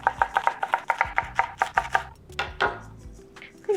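Onions for breakfast burritos being chopped with a knife: about a dozen quick, evenly spaced, crisp chops, followed by a few scattered, duller knocks and scraping sounds, with no talking.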